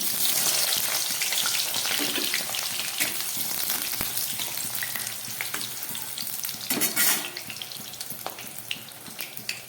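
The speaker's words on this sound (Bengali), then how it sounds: "তেলটা গরম হয়ে গেছে, আমি একদম প্রথমে বেগুনটাকে ভেজে নিচ্ছি।" Eggplant frying in hot mustard oil, a steady close crackling sizzle with a few stirring scrapes and a brief louder burst of spatter, no talking.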